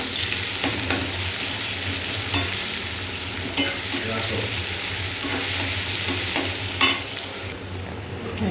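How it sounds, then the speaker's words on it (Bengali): Chopped onion, capsicum and chili fry in a pan with a steady close sizzle, broken by repeated scraping stirs, while a voice speaks briefly. "একই সাথে ক্যাপসিকাম লঙ্কা কুচিটাও দিয়ে দেবো, আর কেটে রাখা লঙ্কাটাও দিয়ে লাল লাল করে ভেজে নেব।"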